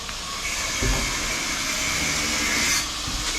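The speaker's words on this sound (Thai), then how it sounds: "เครื่องปั่นไฟยาวมากเครื่องปั่นไฟ" A steady, loud engine drone with a broad hiss runs continuously, like a diesel generator running close by, with a brief low thump near the start.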